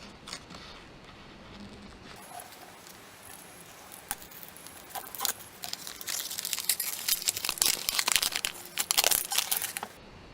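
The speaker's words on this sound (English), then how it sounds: "carefully peel off the paper." Paper being slowly peeled away from a door-shaped craft piece, a soft crinkling and tearing patter that starts quietly and grows denser and louder toward the end.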